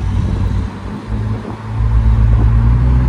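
A BMW E46 325Ci convertible accelerating on the road, heard from inside as a loud, low engine rumble that dips briefly and then swells steadily, with no voices.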